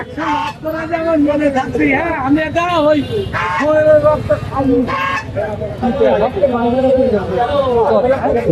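Domestic ducks and geese at a wholesale poultry market, with loud, busy honking and quacking calls overlapping close by while someone talks over the flock.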